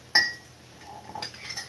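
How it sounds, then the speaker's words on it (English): Dishes are being put away. A sharp ceramic clink rings out clearly at first, then quieter rattling and knocking of plates and cutlery follows, close by and moderately soft. "put some dishes away. Some dishes downstairs."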